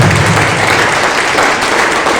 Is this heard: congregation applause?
yes